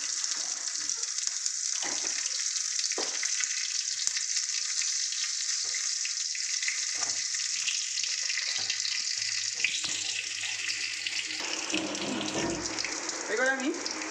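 Nigella seeds, bay leaf, dried red chilies and three slit green chilies frying in hot oil, a steady close sizzle that runs throughout with a few soft stirring knocks, becoming busier and crackling near the end.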